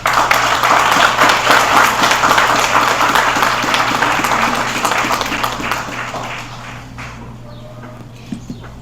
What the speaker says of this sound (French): Je vous demande d'applaudir encore une fois le ministre de la Santé publique et de la Population